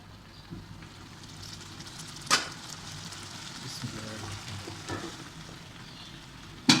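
Potatoes and cauliflower go into a pan of frying fish, a steady crackling sizzle with two sharp bursts as pieces drop into the hot oil and occasional stirring scrapes.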